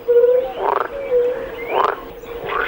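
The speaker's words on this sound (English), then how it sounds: "Towards the end of spring, the familiar frog chorus can be heard from every pond in the area" Frog calls ring out from a shallow pond, several drawn-out croaks in slow succession, fairly close and clear against quiet surroundings.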